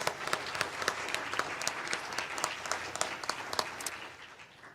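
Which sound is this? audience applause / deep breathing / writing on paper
audience applause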